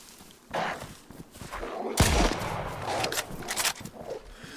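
A sharp gunshot crack in DayZ on the winter Namalsk map, a single loud close report followed by a rumbling tail over faint background noise.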